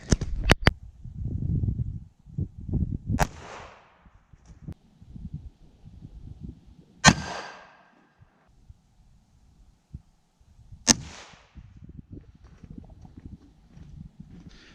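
Three sharp .22 Aguila Super Maximum rimfire shots fired into ballistic gel, each a loud crack with a short ringing tail, spaced a few seconds apart amid low handling rustle.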